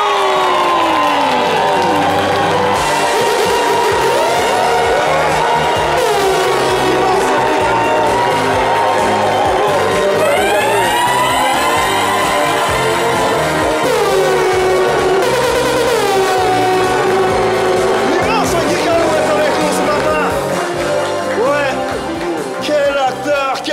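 A live audience on an Ivorian talk show cheers and applauds to welcome filmmaker Guy Kalou. The loud crowd noise is sustained over steady background music for the whole stretch.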